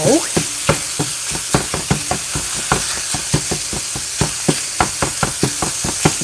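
Ground beef browning in a frying pan for shepherd's pie sizzles loudly and close, while a spatula scrapes and taps the pan in quick, regular strokes throughout.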